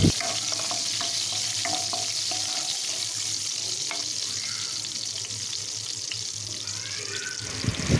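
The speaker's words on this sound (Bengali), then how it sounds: "ফোড়ন থেকে যতক্ষণ একটা সুন্দর স্মেল আসছে ততক্ষণ আমি ফোড়নটাকে খুব ভালো করে ভেজে নেবো" Whole spices sizzle steadily in hot oil in a pan, tempering for a cauliflower curry, with occasional light stirring clicks over a constant crackling hiss and no talking.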